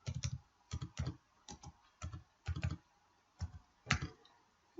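Bursts of typing on a computer keyboard in short clustered runs with brief pauses between, close and fairly loud, while entering a style name in a word processor; no talk.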